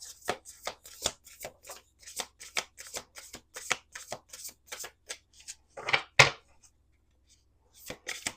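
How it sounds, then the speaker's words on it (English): Oracle cards shuffled by hand in a series of quick riffling bursts with short pauses between, close and fairly loud, one louder flurry near the end, no talking. "One more shuffle."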